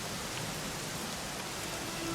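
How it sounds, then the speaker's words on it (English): Steady rain falls in the video game Dragon Quest XI, a soft, even hiss of drops on surfaces that continues unbroken without any voices. "it was raining like this"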